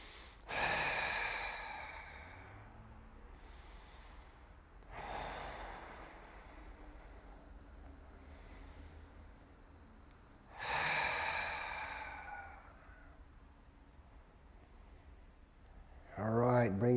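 Slow, deep breaths during a yoga stretch, with three long airy exhalations spaced several seconds apart, close and soft, over quiet room tone.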